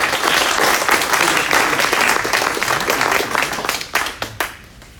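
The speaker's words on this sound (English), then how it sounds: "Let's applaud him and clap for him." An audience at an awards ceremony for data and AI innovation claps to welcome a government minister. The applause is dense and sustained, then thins into a few scattered claps as it fades at the end.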